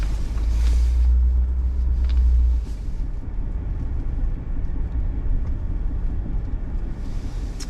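Low engine rumble from a big truck maneuvering through a tight snowy turnaround at a boat ramp on a lake, heaviest in the first couple of seconds and then settling into a steady drone with no talk.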